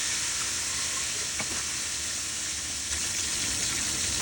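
Cornmeal sizzles in oil heating in a pan for frying mustard pork chops, a steady, dense hiss and crackle at close range that holds even throughout, with no voices.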